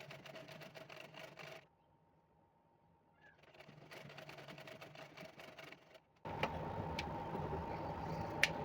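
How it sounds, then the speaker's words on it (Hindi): A sewing machine runs a steady stitching hum along a half-inch folded hem of a Patiala salwar, pausing briefly midway, then resuming louder and closer toward the end with a rapid mechanical rattle. "जो आधा इंच मुड़ा हुआ है उसी पे सिलाई लगाएंगे इस तरह से"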